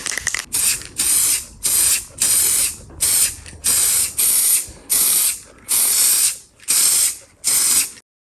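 Aerosol spray paint hissing in a series of short bursts while painting parts of a 1987 Honda CR500, about a dozen evenly spaced sprays, close and loud, with brief pauses between.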